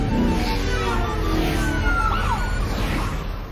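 In a driving video game, a wailing police siren rises and falls over a loud, steady engine rumble, close and continuous throughout.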